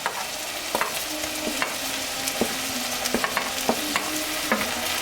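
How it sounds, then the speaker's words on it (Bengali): Ground spices with chili, turmeric, salt and garam masala sizzle steadily in a pan while a spoon stirs and scrapes in regular knocks, close and moderately loud, with no voices. "মশলাগুলোকে ভালোভাবে ভুনে নিতে হবে"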